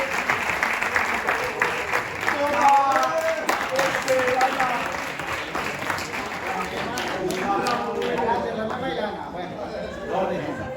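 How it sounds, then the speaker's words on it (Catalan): Sustained applause from an audience, steady clapping with crowd chatter and voices mixed in throughout. "l'aplaudiment a l'Ander."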